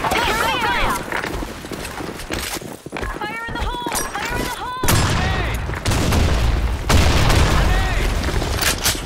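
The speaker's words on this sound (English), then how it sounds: "Fire in the hole! Fire in the hole! Grenade!" A grenade goes off in the online shooter Blackshot, a loud boom with a broad low rumble about halfway through, set among gunfire and in-game voice callouts.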